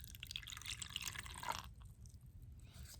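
Liquid poured from a red cup through a funnel into a second cup, a close, steady trickling and dripping that runs for about a second and a half, then drops away to a faint quiet tail.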